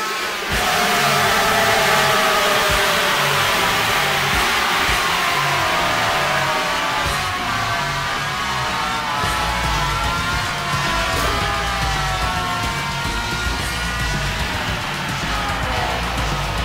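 The 2002 game MotoGP Ultimate Racing Technology plays its motorcycle engines at a constant high-revving whine with shifting pitch, loud and continuous for the full length, with no voices.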